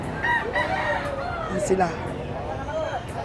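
Chickens at a busy livestock market where buyers haggle over birds, with clucking and a rooster-like crow sounding close over a steady crowd murmur and ongoing speech.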